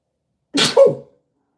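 A single sharp human sneeze, close and loud, bursting out with a breathy onset and a short voiced tail, then silence.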